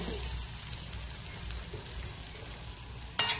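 Soft, steady sizzling of food roasting in ghee with salt and asafoetida in a pan, a close crackling hiss throughout, ending with a brief sharper clatter.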